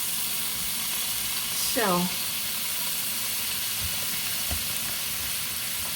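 Cheese steak empanadas frying in a pan give a constant bright sizzle and hiss throughout, with a short spoken word, a rising squeak and a couple of soft knocks.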